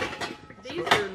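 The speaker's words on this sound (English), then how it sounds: "Exactly the kind of copper bottom pans and lids they had." Copper-bottom pans and their lids clank and knock together in a few brief, close metallic hits, with people talking throughout.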